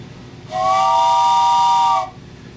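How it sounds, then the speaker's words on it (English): A single sustained steam whistle blast, loud and close, with a hissing airy edge, holding steady for about one and a half seconds before cutting off. "we got to do the steam train whistle"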